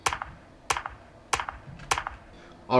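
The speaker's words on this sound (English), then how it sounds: "I also took the slow clap from Fortnite for the clap in our song." Slow clap sound effect from the video game Fortnite, four evenly spaced sharp claps at a slow pace, each with a short echoing tail, clear and close with no talking.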